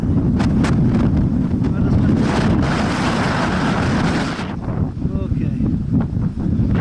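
Strong wind buffets the microphone near a mountain summit in fog, a loud, continuous roaring rush that eases after a few seconds, with a person speaking over it.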